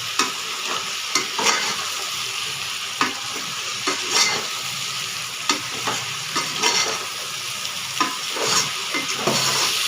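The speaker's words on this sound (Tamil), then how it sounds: "நல்லா வதங்கி வந்திருக்கு மஷ்ரூம்" Mushrooms fry in a pan with a constant close sizzle while a spoon stirs them, scraping and clinking at irregular intervals over about ten seconds.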